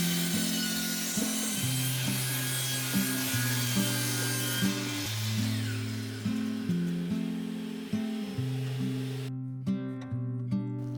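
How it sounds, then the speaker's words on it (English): A miter saw cuts the short sides of a half-inch pine serving tray, producing a loud, continuous rasping whine with a shifting pitch that cuts off sharply near the end. "I was able to cut off the shorter sides with a miter saw"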